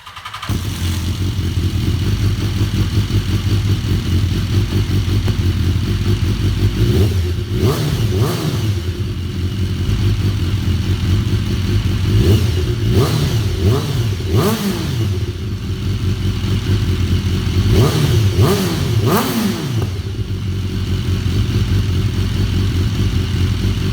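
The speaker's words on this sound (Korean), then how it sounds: "엔진 사운드도 들어보겠습니다." A BMW S 1000 R naked motorcycle engine idles loudly and steadily, then revs up sharply three times in short bursts before settling back to idle.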